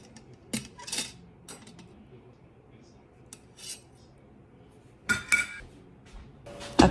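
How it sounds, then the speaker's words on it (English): A metal wire rack and beef patties set down inside an Instant Pot, giving a few sharp metallic clinks and clatters near the start and again toward the end, close and fairly quiet with pauses between. "Now I add my wire rack and then place the beef patties on the rack."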